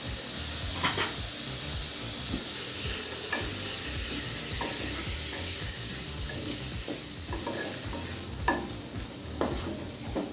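Boiled potatoes and peas being stirred into a frying lemon rice base, giving a continuous dense sizzle with soft scraping stirs and a few sharper clinks of a spoon against the pan toward the end, with no voices.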